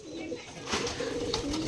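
Pigeons kept in a small abandoned space cooing in soft, repeated rolling calls, close by over a murmur of background noise.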